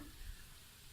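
A soft, steady sizzle of hot mustard oil in a wok, faint and continuous with no talking.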